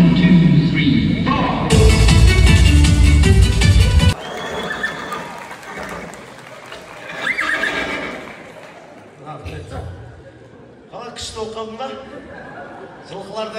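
A recording of horses neighing and hooves clip-clopping plays loudly at a Kazakh wedding feast, with a strong whinny in the first few seconds, then voices and laughter over quieter, broken sounds.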